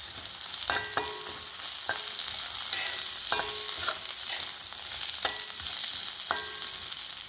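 Onions softening in oil for a brinjal mezhukkupuratti are stirred in a pan, with a steady close sizzle broken by regular scraping strokes of a metal spatula about once a second, and no voices.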